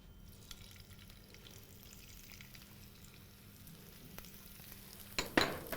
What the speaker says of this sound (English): So as the oil is getting warm, we will add in some chopped ginger into it.